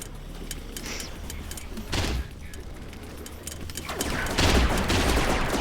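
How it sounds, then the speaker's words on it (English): Grenades exploding in a Rec Room laser tag match, a few loud broadband blasts that rise out of steady game noise, with the strongest bursts near the end. "Early grenades flying off. And my, are they loud."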